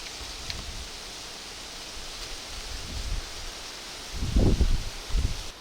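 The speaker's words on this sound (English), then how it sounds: "It's getting pretty windy out" Wind rustles leaves in a rattlesnake habitat outdoors, a soft, steady hiss with a few louder gusts and handling bumps near the end, no voices.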